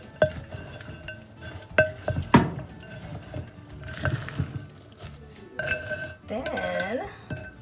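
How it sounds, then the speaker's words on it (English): A spatula gives microwave peanut brittle a quick stir in its dish, making close scrapes and sharp clinks in irregular bursts, with a short stretch of faint voice. "Use a spatula like this. And we're gonna give it a little quick stir."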